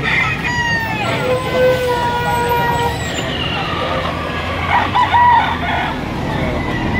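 Roosters crowing repeatedly among chickens at a poultry farm in Lipa, Batangas, several overlapping drawn-out crows from near and farther birds over a noisy background, with a person talking at times.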